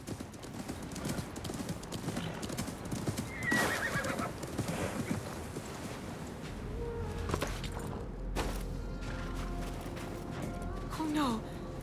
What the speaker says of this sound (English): My father's horse!